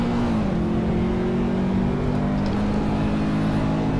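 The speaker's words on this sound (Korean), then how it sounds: "아, 만두 추월 성공하면서 템페스트 19등까지 내려갑니다" Race cars in a racing video game droning loudly and steadily as they battle for position, engine tones holding and slightly rising as one overtakes another, with a faint whine above.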